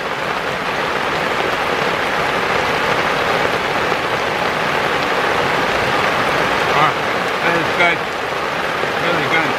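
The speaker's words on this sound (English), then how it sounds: "Rain's coming real high now" Heavy rain pours down outdoors in a steady, loud hiss that drums continuously on surfaces, with no break in its intensity.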